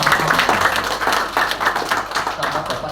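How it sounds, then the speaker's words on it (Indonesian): Audience applause at a network marketing seminar: a crowd claps steadily and densely throughout, loud and close, with no speech over it. "Tepuk tangan untuk Bapak Ibu yang paham."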